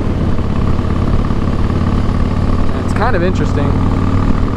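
A Harley-Davidson Fat Boy cruiser motorcycle engine runs steadily with a loud, continuous low rumble and wind noise during a ride, with someone speaking briefly over it.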